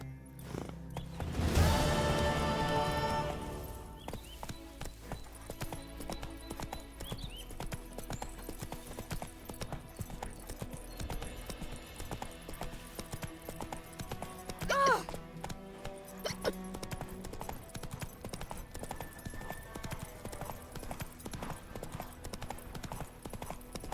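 Roach, a horse in The Witcher 3, gallops with steady, repeated clip-clop hoofbeats in a continuous rhythm. A louder burst comes near the start, and the hoofbeats run under game music and ambient sound throughout.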